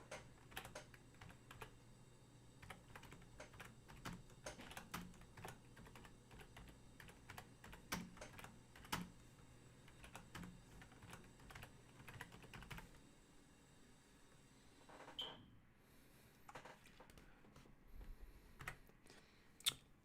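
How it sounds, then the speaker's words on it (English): Steady typing on a computer keyboard, rapid clustered key clicks at low level, close and alone, with a brief pause near the end before a few last taps. "I'm going to type that one."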